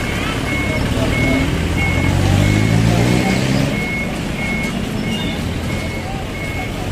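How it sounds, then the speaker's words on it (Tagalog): Reversing beeps from a tow truck being maneuvered into position to load a white car, a steady repeating series of tones over a rumbling engine and street noise. "Kaya pinaporma na nila yung tow truck para isakay nga ito puting sasakyan."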